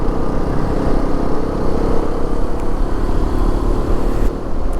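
A brand-new Hero XPulse 210 motorcycle, kept at low revs during break-in, rides along with a loud, continuous engine roar mixed with rushing wind noise and no talk.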